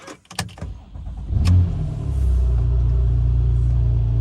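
A Porsche 911 Carrera S with a 3.8 litre six-cylinder engine cranks over after a few clicks and catches, then settles into a close, steady low idle rumble.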